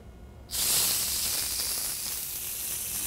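A piece of pork hits an electric griddle oiled with safflower oil and bursts into a loud, steady sizzle that starts suddenly and holds with a bright hiss.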